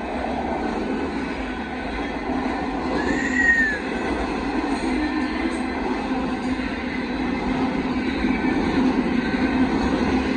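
A northbound KCSM auto intermodal freight train rolls past steadily, a continuous loud rumble of rail cars and wheels with a brief wheel squeal, heard alone without talk.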